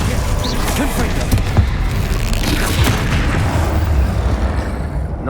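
A Confringo blast spell exploding during combat in Hogwarts Legacy, a loud booming burst amid continuous rumbling battle noise, with a voice speaking over it.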